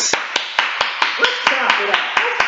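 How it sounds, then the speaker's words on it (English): Audience clapping in steady, evenly spaced claps, about two per second, loud and close, with a voice talking over the rhythm throughout. "Let's clap it up just a little bit."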